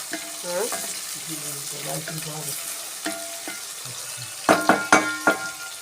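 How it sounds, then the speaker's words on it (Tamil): Fenugreek, mustard seeds, curry leaves, garlic, onions and shallots sauté in oil, a continuous sizzle with stirring, ending in several sharp clacks of a spoon against the pan; no one speaks. "வெந்தயம், கடுகு, கருவேப்பிலை, பூண்டு, வெங்காயம், சின்ன வெங்காயம், எண்ணெய் போட்டு பொன்னிறமாக வதக்கிறோம்."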